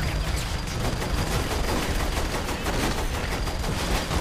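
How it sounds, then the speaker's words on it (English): Shotgun fire in the video game Saints Row The Third, a dense, continuous barrage of loud gunshots and blasts filling the whole stretch without pause, with no talk audible. "Time to switch to the shotgun."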